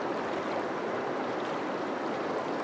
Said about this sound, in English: we're here at the Trinity River